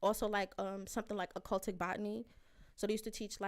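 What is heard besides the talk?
No distinct noise like a dog, phone or traffic.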